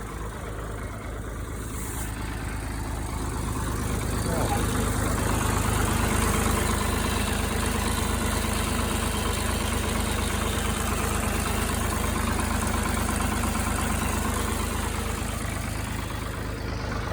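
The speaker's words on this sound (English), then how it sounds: "There's also like a loud, like chattering sound coming from the clutch area" The engine of a 1974 Ford 3000 tractor runs steadily nearby, a low idling drone with a faint rattling chatter from the clutch area, with no talking.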